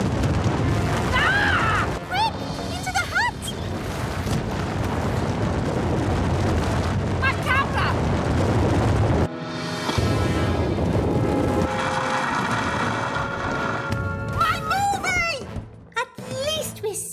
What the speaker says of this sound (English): Avalanche!